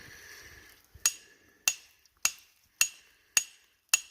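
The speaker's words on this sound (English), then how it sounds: "Hammering a couple of chunks off here." Rock hammer chipping chunks off a sulphide vein outcrop bearing pyrite: six sharp, ringing metallic strikes at an even pace about half a second apart, close and crisp against a quiet outdoor background.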